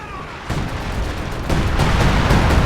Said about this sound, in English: Nick threw down some artillery back here, which is good